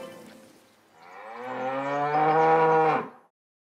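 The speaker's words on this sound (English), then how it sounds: "That stubborn brown cow isn't going anywhere." A single cow gives a long, rising moo up close, swelling in loudness before stopping abruptly.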